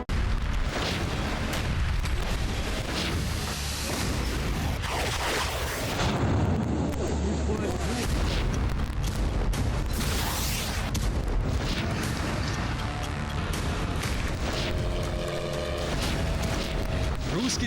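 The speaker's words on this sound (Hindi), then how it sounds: "रूस की जमीन पर फिर धमाके, फिर वैसी ही आग।" Chaotic news footage of explosions on Russian soil, with deep booms, crackling fire and rumbling blasts in a continuous loud, dense wash, a voice faintly present beneath the noise.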